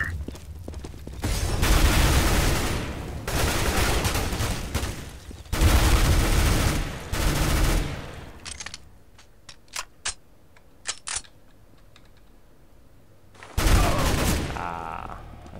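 Bursts of rapid automatic gunfire from Counter-Strike: Global Offensive ring out in several long loud volleys, broken by a stretch of quieter single clicks and short mechanical sounds before a final burst.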